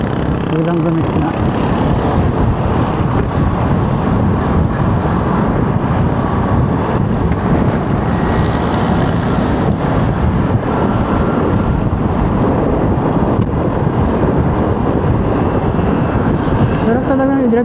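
Yamaha XMAX 300 scooter cruising at about 60 km/h, a steady loud roar of wind buffeting and road rumble with the engine drone underneath, continuous throughout with no talk.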